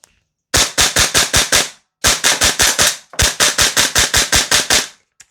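Noveske Ghetto Blaster gas blowback airsoft rifle on a Guns Modified P mag firing three loud rapid bursts of about five or six sharp cracks each, with brief pauses between bursts and no talking.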